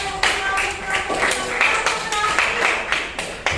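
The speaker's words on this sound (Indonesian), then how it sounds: "Dan, oke, tepuk tangan." Group of people clapping hands together in a classroom, a steady series of fairly loud, evenly spaced claps lasting a few seconds with faint voices underneath.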